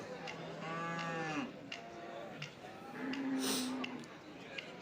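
Dairy cows at a cattle market mooing twice, long low calls close by, one early and one later, over faint background murmur.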